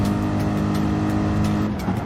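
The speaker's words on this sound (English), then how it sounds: "They're braking good, the blue flag is being waved, Sasha is definitely getting close." Race cars lapping Monza in Gran Turismo 5 during a 500 km endurance event: a steady, loud engine drone with layered harmonics holds through the whole stretch, like cars running close together, with a brief change near the end.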